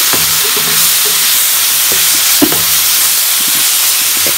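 Chicken and vegetables sizzle steadily while browning in a frying pan, a constant close hiss of frying with occasional stirring clatters and scrapes, no voices.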